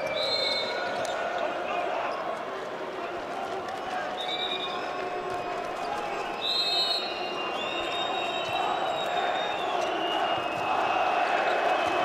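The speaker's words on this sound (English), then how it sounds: "now the crowd starting to make some noise" Steady crowd noise fills a handball arena during the Euro 2012 Poland versus Sweden match, a continuous roar with whistles and shouts rising slightly toward the end, under a commentator's voice.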